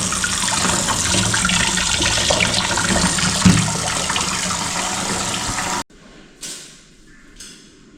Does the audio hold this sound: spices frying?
no